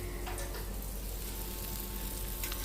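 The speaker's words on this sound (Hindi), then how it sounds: "फाइनली अब दाल में तड़का लगेगा" Tempering (tadka) for dal sizzles in hot oil in a home kitchen, giving a close, steady crackling hiss with a few brief pops and no talk.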